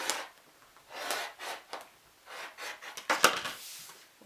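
Quilting fabric edge being trimmed, likely with a rotary cutter along a ruler, giving a series of close, soft rolling and scraping strokes in an uneven rhythm, no talking.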